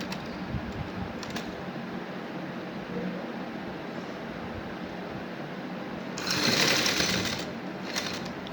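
An electric sewing machine runs steadily while stitching a folded strip into a garment neckline, giving a continuous close whirring hum with a louder, faster burst near the end.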